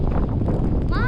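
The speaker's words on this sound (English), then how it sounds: "It's quite windy." Wind buffets the microphone at an industrial marina with fishing boats and freighters, a loud, low rumbling gust throughout. A voice can be heard mixed in, and a faint rising tone appears near the end.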